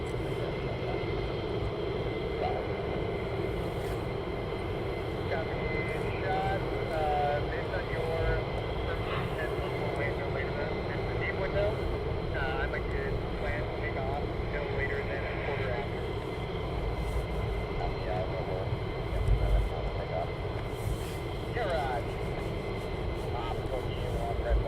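Several F-15 jets at RAF Lakenheath idle while readying for departure, a steady distant engine rumble and whine running continuously under people talking.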